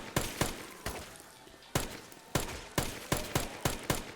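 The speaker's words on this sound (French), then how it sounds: "Il y a un coup de feu, c'était pas moi." Gunfire in the video game Dead Rising Deluxe Remaster: about ten sharp, loud bangs in an uneven sequence, some spaced apart and some in quick succession, with no talk.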